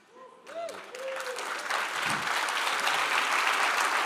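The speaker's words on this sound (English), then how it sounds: "You guys give Marcus Lemonis a round of applause." A live interview audience bursts into applause that swells from a few scattered claps into a dense, sustained roar of clapping, with brief voices at the start before the crowd noise takes over.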